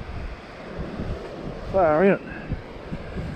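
Steady wind noise rushes across the microphone throughout, with a voice briefly speaking over the blustery roar.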